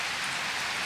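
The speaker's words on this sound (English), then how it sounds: "I was hoping to get done before the rain came in" Steady rain falling on an orchard, a dense, even hiss that holds unbroken for the whole short stretch, fairly close and moderately loud, with no voices.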